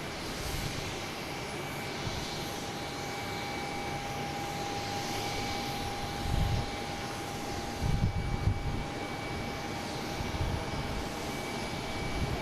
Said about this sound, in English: The Cessna 402. That's the one going to Nantucket right there.